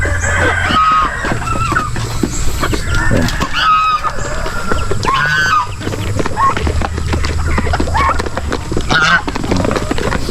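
Chickens on a small farm flock clucking continuously at close range, with occasional louder squawks and calls rising over a steady bed of bird chatter, with people talking intermittently in the background.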